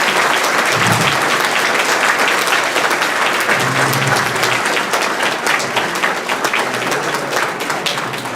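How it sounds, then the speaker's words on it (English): An audience at the close of a candidate forum breaks into a loud, sustained round of applause, steady and dense throughout, fading slightly at the end. "Please give our candidates a round of applause."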